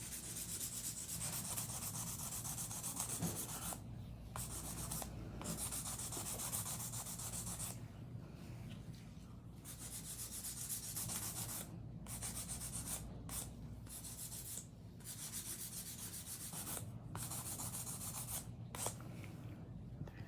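An electric nail drill filing acrylic nails whirs and grinds in a continuous high buzz, with brief pauses where it lifts off, filing steadily and close up.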